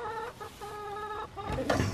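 Chickens in a farmyard cluck in short rising calls, fairly close, with some louder squawking and shuffling near the end.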